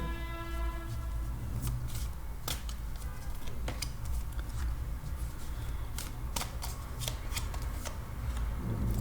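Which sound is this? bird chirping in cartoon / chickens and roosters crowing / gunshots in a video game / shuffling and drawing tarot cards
shuffling and drawing tarot cards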